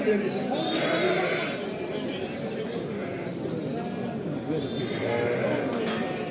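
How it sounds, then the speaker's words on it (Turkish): Lambs bleat repeatedly among a noisy crowd at a livestock market in Kırıkhan, Hatay, Turkey, with people talking throughout and the animal cries rising over the murmur. "Burada yine kuzular var."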